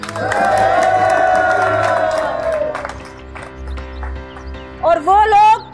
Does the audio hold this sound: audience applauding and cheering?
yes